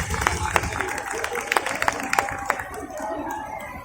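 An audience at a Hindi poetry gathering in Baghpat claps in scattered, sharp bursts, with irregular individual claps over a murmur of voices, moderately close and fading toward the end.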